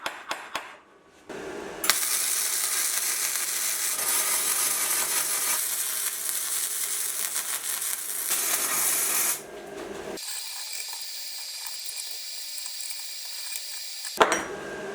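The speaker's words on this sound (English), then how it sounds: "they can now be welded in place" Steel vise parts being welded, a steady loud crackling and sizzling hiss in long bursts with brief pauses between.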